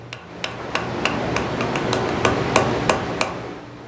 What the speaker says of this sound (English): I just hit and rotate until it starts to conform to the edge of the anvil